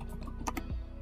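A brief burst of typing on a computer keyboard, a few quick close clicks entering a search on Amazon, heard over a low steady hum.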